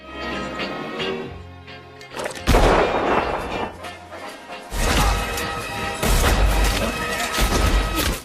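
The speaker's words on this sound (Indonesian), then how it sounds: "Django selalu menyempatkan diri untuk melatih akurasi tembakannya." Gunshots as Django practises his shooting in the 2012 film Django Unchained: loud, sharp cracks and smashes in several clustered bursts, mixed with film sound and background noise.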